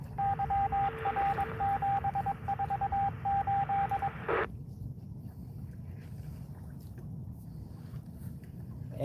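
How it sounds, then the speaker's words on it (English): Morse code beeps over a boat radio heard while out fishing, a rapid series of short and long pure tones repeating for about four seconds before cutting off, leaving a quiet hiss. "Anybody know Morse code can tell me what they said?"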